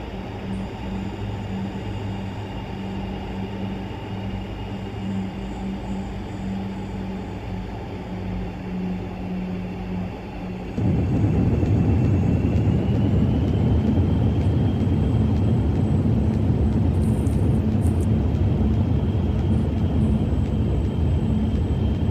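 FlyJSims Dash 8 turboprop landing on the runway in X-Plane 11, a steady engine drone with tonal hum that jumps to a louder, broader rumble at touchdown and rolls on continuously, with no talk.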